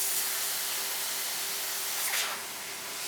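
A steady, soft hiss of an airbrush spraying fine paint runs for a few seconds, with a brief stronger burst near the end, close by and fairly quiet.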